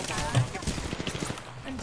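Rapid gunfire from a battle royale shooter cracks out in a quick burst of close shots over game noise, with voices talking underneath.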